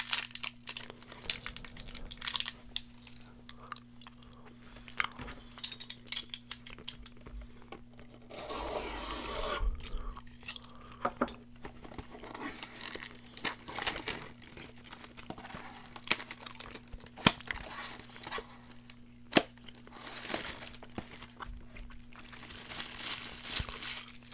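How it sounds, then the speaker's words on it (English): Hi-Chew candy wrapper crinkles and rustles up close, with intermittent crackling bursts, soft rubbing and a longer crumpling stretch, then quieter chewing-like handling sounds, all without talk. "we'll open a high chew first"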